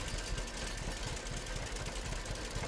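An IMT tractor engine in Farming Simulator 17, on an old-time mowing and raking job, drones at a steady, faint, even level throughout, with no voices.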